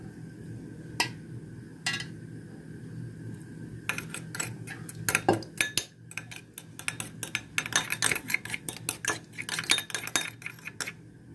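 Egg yolk being whisked with two spoonfuls of milk in a bowl, a spoon or fork clinking against the sides in quick, irregular taps that build into a steady, rapid beating rhythm.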